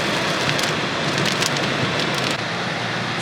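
Steady, dense rain patters down continuously in Great Smoky Mountains National Park, a loud broadband hiss of drops with occasional brighter splashes, no voices.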